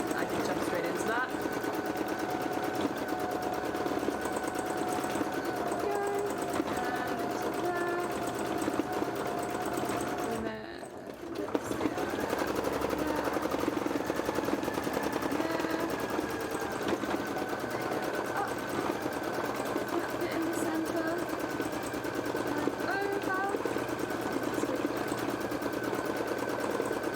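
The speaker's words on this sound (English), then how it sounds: "I am sewing into like the thickest part so far" An embroidery sewing machine stitches through thick fabric with a fast, continuous mechanical whir and rattle that runs throughout, with a brief pause partway. A person talks over it.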